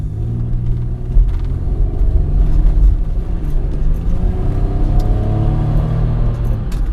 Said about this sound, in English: Okay, I'm gonna try a really accelerated takeoff here.